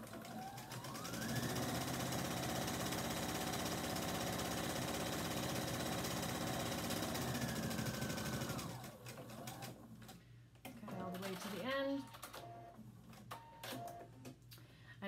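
A home sewing machine runs a long, continuous straight-stitch seam for about eight seconds, whirring steadily up close, then stops, followed by quieter handling noises.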